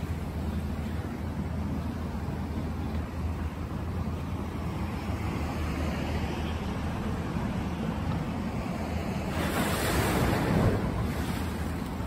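Ocean surf roars continuously with a steady wash of breaking waves off Front Street in Lahaina, Maui, swelling louder near the end, with some wind buffeting the microphone.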